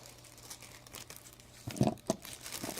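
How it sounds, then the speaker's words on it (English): Velcro strap pulled apart during installation of an FSP Aurum S 400 W PSU, heard as a short rough ripping burst near the end, fairly faint over low room noise. "More Velcro."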